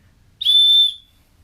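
A 120 dB survival whistle from a compact urban survival kit gives one short, piercing blast of about half a second, very loud and close against near silence.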